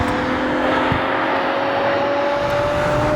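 Steady, loud engine drone from a two-ton Ferrari GT car driving twisty roads, heard from inside the cabin with a constant hum and no voices.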